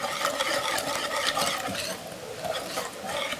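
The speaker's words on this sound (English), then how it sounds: "I want to just blend that flour and cornstarch in there" Flour and cornstarch being stirred into a potato soup mixture in a pot, a steady scraping, swishing stir that runs continuously and close up with no talk.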